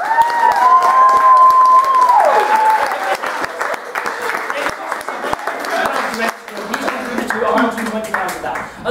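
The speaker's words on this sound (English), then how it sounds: "Can we have a round of applause for Robbie Fox, please?" Loud crowd applause with steady clapping and some cheering, voices mixed in throughout.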